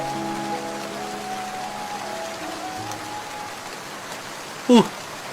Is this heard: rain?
yes